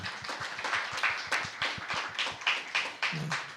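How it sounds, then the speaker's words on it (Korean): A church congregation claps in thanks, a close, moderately quiet round of individual hand claps with a loose, uneven rhythm that continues steadily throughout. "감사하다는 의미로 우리 박수 한번 하도록 하겠습니다"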